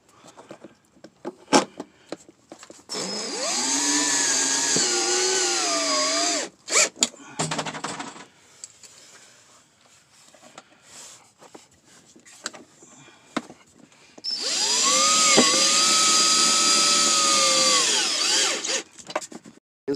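A power drill drives self-tapping screws while a diesel heater is installed in a Nissan NV2500 high-top van: two long, loud whining runs several seconds each, separated by brief clicks and handling noise.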